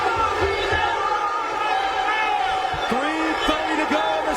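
An arena crowd at a UFC heavyweight bout in Newark, New Jersey, roars and cheers in a continuous swell, with whoops rising above the din as a commentator talks over it.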